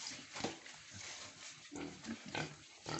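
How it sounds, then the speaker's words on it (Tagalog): Two-month-old pigs on a pig farm grunt and squeal in short, irregular bursts at close range, with no talking. "Ito po ang ating mga 2 buwan na baboy."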